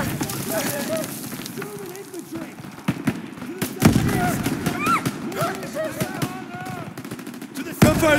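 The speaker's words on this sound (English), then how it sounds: "Gunfire this way." Bursts of rapid gunfire crackle and pop in a chaotic World War II video game battle, with sharp individual shots and people shouting and talking over the shooting.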